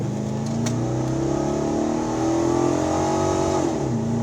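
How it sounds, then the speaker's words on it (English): A 1996 Chevrolet Impala SS accelerates from inside the cabin, its engine drone climbing steadily in pitch, then dropping sharply at a gearshift near the end. The sound is smooth and continuous, with no talking. "So what we'll do is we'll accelerate."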